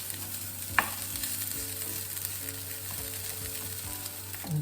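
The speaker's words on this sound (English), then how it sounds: "So let's toast the rice for about 2 minutes. But you gotta keep stirring." Rice toasting in a hot pan with chorizo, a constant close sizzle and crackle with light scraping and knocks from continuous stirring, no talking.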